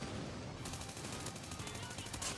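Rapid bursts of AK117 gunfire in Call of Duty: Mobile, sharp repeated cracks in quick succession over a dense background.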